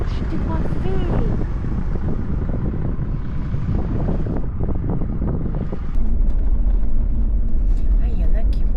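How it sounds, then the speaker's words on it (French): Steady coastal wind rumble buffets the microphone throughout near Dakhla, Western Sahara, with people talking over it and a louder gust-like surge in the last few seconds. "Ah, le vent."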